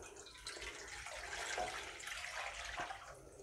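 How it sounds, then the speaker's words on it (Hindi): About one litre of water pours into a cooking pot over a medium flame, making a steady, soft splashing stream that runs the whole time with no voice over it. "और ये 1 लीटर पानी मैं इसमें शामिल करूँगी।"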